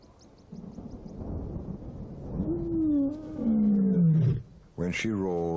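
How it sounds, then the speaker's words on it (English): A lone lioness roars in the wild on a stormy day, a rising, drawn-out bellow that swells and falls away, then a second loud roar bursts out close and powerful. "When she roars, she calls to no one."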